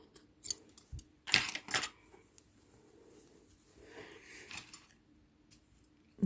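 Scissors snip knitting yarn while finishing a baby's knitted hat, giving a few sharp, close cuts in quick succession, then quieter handling noises, with no talking.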